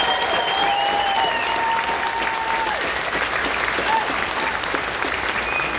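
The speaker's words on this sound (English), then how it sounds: "Let's give them another round of applause." Audience applause at a pre-flight Honor Flight dinner for World War II veterans, a steady sustained round of clapping from a full room with a few scattered voices and cheers mixed in.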